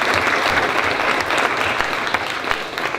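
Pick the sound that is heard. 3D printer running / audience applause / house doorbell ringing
audience applause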